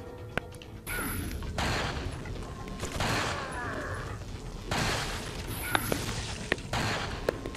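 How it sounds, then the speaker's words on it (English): Gunfire from the video game Resident Evil 4, with bursts of shots and crashing impacts layered over a dense, busy game soundtrack across several seconds, fairly loud throughout. "I shot the dude's hand and his head exploded."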